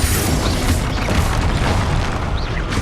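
A Confringo blasting spell explodes in the video game Hogwarts Legacy, a loud, dense boom that fills the whole stretch with rumbling burst and crackling debris, no voices over it.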